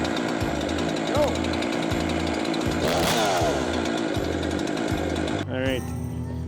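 Chainsaw being pull-started with the decompression valve pushed in and ignition on, its engine running loud and steady with a harsh buzzing drone, pitch shifting near the end.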